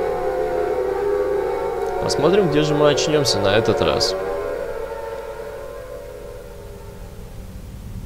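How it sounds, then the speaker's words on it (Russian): A siren in the video game Silent Hill wails in rising and falling sweeps under a steady drone, while someone speaks Russian over it partway through before the wail fades. "И мы слышим опять сирены."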